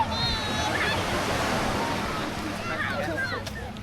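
Sea waves washing onto the beach at Teignmouth seafront in Devon, a steady broad surf wash with wind, with a faint voice and distant chatter in the background.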